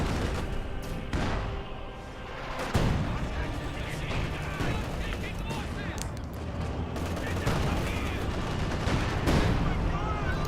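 A ZiS gun artillery barrage in the video game Company of Heroes 2 during a battle replay: dense, loud booms and blasts layered with other gunfire, forming an unbroken roar of combat noise.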